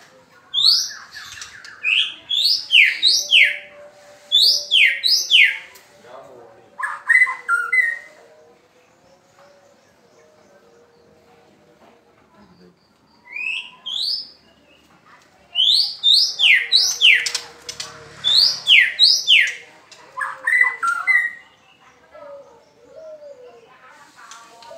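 A white-rumped shama of the Medan type sings rich, varied whistles and trills in two lively bursts, separated by a quiet pause, with softer chirps between phrases.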